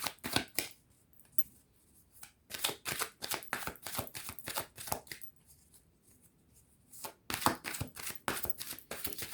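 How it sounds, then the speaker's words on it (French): Thoth tarot cards being shuffled by hand, with close, crisp riffling and flicking bursts in clusters separated by short quieter gaps. "Voilà, le tarot de Thoth. Donc, on va prendre 6 cartes."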